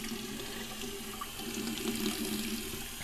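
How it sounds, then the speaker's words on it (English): Water runs steadily from a shower, a continuous close hiss and splash with a faint tonal hum underneath, no talking over it. "Just hop in the shower."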